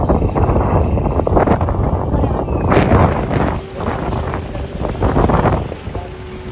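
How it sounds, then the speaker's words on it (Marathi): Cold wind blows on the Brahmagiri mountain top near Trimbakeshwar, a loud close continuous roar buffeting the microphone, easing slightly partway through. "पुरी गार हवा लागते एकदम थंड हवा"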